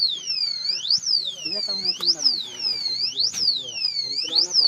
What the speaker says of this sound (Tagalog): May alarm yung piso wifi.